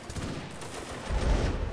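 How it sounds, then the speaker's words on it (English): Musket volley in a Napoleonic Wars line battle in Mount and Blade Warband, a dense burst of overlapping shots that swells loud and low near the end after a steadier rumble of battlefield noise. "Fire at will."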